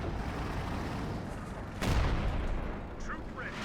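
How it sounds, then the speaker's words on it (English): An artillery barrage in the WWII strategy game Company of Heroes, fired from a Priest self-propelled gun, with a dull rumble of battle noise broken by a sharp, heavy blast midway, and a caster talking throughout. "We have a creeping barrage as well from the priest here."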